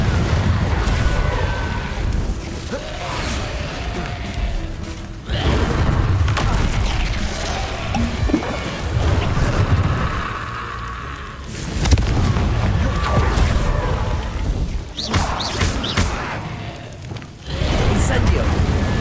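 Repeated Confringo blasting-spell explosions in Hogwarts Legacy, booming bursts that recur every few seconds through a dense, noisy combat mix, with a voice calling out spells between them.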